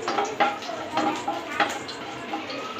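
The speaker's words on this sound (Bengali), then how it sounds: "এলাচ দিয়ে আমি একটু নেড়ে চেড়ে" Cardamom and garam masala are stirred in a karahi while making a carrot and papaya halwa. A spoon scrapes and knocks against the pan in irregular strokes over a faint sizzle, with some soft talking.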